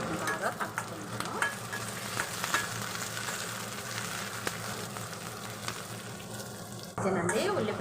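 Curry leaves, onion and brinjal stir-frying in a pan for vankaya fry, a loud crackling sizzle with steady stirring and scraping close up, briefly louder near the end.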